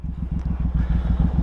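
Deep, rapid firing pulses from a Suzuki Boulevard M109R motorcycle being ridden, loud and near, a steady low throbbing engine rhythm heard on its own.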